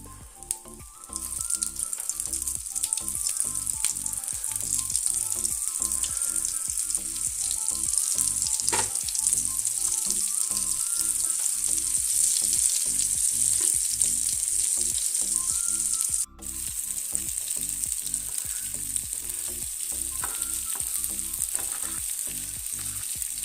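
Flour-coated cutlets frying on a hot tawa, a loud continuous close sizzle with fine crackling spatters that holds for over twenty seconds, briefly dipping once, with no voices.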